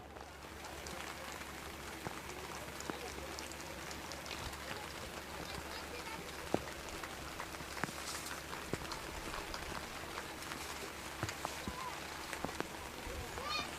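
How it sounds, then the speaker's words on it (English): Rain keeps falling on an outdoor soccer field during a youth cup match, a steady hiss broken by scattered faint taps and knocks, with distant activity in the background. "And it is still raining, folks. The rain has not completely let up."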